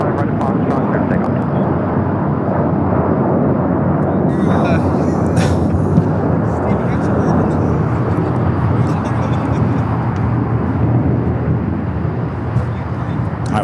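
Airbus A350 airliner taking off at LAX airport, a loud, continuous low jet roar that stays strong throughout, with a voice talking over it.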